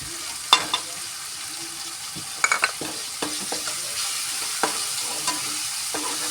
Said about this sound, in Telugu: పక్కన పోయేదాకా నూనె వేగనిద్దామండి